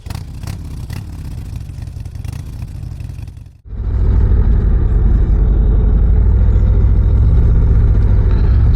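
A 2025 Harley-Davidson Street Glide Ultra with the 117 engine is heard on a test ride. It starts with a steady mid-range rumble, dips briefly, then opens up into a louder, sustained engine roar close to the listener.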